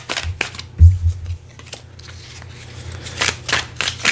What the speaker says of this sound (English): And let's shuffle up this stack. And then we're just going to do a quick kind of shuffle of all of them